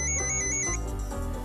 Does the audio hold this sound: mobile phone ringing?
yes